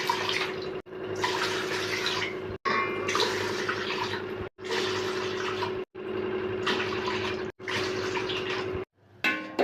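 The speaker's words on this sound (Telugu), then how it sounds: "6 గ్లాస్ వాటర్ పోసుకోవాలి." Water from about six glasses is poured into a cooking pot in separate gushing bursts, each a few seconds long, split by short pauses; the splashing is close and steady with no speech.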